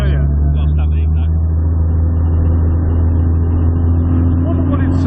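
A modified Jaguar E-type with high-lift cams drives along, its engine a loud, steady, rough low drone heard from inside the car, with occupants talking over it.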